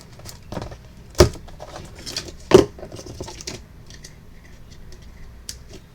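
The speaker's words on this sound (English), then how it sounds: "These are already glued together, so I can take like a whole bunch of them and just cut it off" Scissors snip through a strip of glued-together pearls, giving two loud crisp cuts followed by lighter clicks and handling rustle, close and otherwise quiet.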